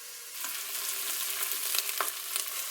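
Chopped onion and garlic sautéing in an Instant Pot pressure cooker, a loud, continuous bright sizzle with faint stirring scrapes, no voices.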